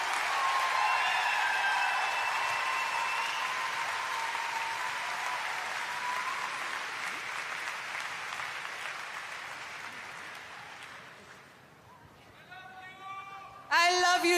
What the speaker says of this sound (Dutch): Dames en heren, applaus voor Lorraine.